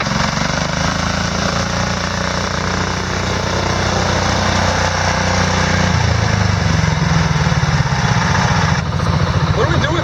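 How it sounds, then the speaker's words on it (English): Garden tractor engines run in the woods, a loud, steady, close mechanical drone with a rough low throb throughout, and voices speak under the noise. "Garden tractors for the win."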